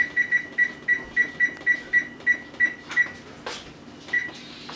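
Electronic beeps from an oven control panel as it is set to preheat to 450 for roasting a turkey, a steady series of a dozen short, evenly spaced tones followed by a soft clunk and a final beep.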